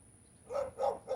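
A dog barks three times in quick succession outdoors, the barks moderately loud and close, over a quiet background with a faint steady electronic tone.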